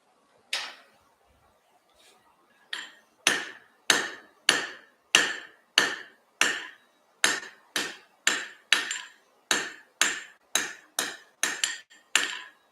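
Sharp, ringing hammer blows peen over the end of metal stock on a small pair of dividers, close and distinct, a couple of isolated strikes then a steady rhythm of about twenty evenly spaced hits.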